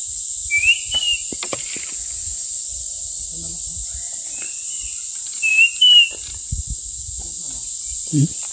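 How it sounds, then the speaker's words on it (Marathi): A few short, high whistled bird calls ring out over a constant insect drone in a forest, coming in brief clusters with quiet gaps between. "वेगळा पक्षी आहे."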